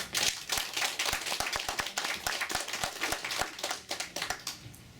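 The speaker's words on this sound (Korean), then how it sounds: "나오실 때 우리 박수로 환영하시기 바랍니다" A church congregation claps to welcome a missionary preacher to the pulpit, producing a steady stream of close, sharp hand claps for several seconds that thin toward the end.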